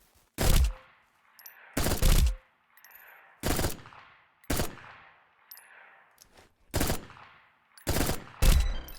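Video-game gunfire at hologram targets in Echo Point Nova comes in about seven sharp, loud bursts of rapid shots spaced roughly a second apart, each with a short ringing tail between volleys.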